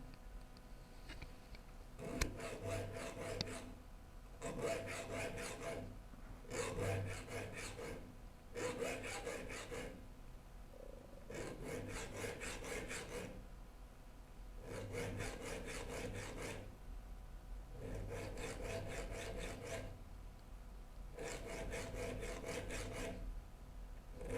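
A file rasps across the teeth of a rip saw clamped in a saw vise, in steady bursts of quick back-and-forth strokes with short pauses between them, close and fairly quiet.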